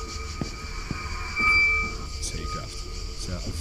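Inside the video game The Ghost Train, a subway train runs with a steady rumble, clacking wheels and a squealing rise near the middle, loud and close; someone speaks briefly over it.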